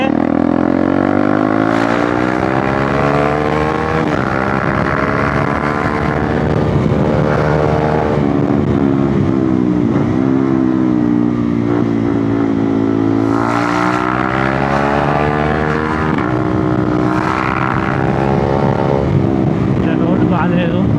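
KTM Duke 390 motorcycle engine heard while riding, loud and close, its pitch climbing and dropping repeatedly through gear changes and throttle blips, with a voice speaking faintly beneath the engine.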